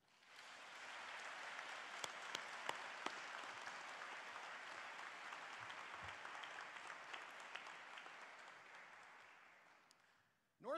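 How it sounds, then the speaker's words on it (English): A large audience at the Northwestern University School of Professional Studies convocation gives sustained applause for about ten seconds, a steady dense roar of clapping with a few sharper claps that fades near the end. "Graduates, please give a round of applause to recognize those that made their own sacrifices so you could achieve this"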